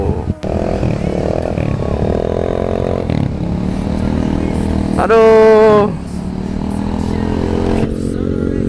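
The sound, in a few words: Honda CBR 150 R motorcycle with standard exhaust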